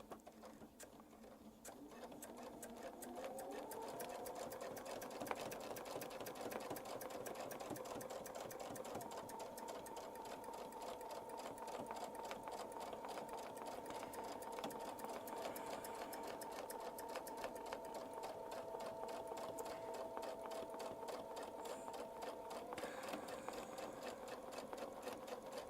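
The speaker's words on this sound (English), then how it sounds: "and we'll sew the next one" A sewing machine stitches a quilt block in a long, steady run: a fast, even mechanical patter with a faint motor hum that holds for over twenty seconds and is quiet in level.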